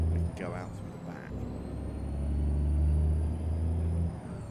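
Deep rumbling truck engine in American Truck Simulator, idling low and swelling slightly in the middle, with a faint whine above; someone speaks over it early on.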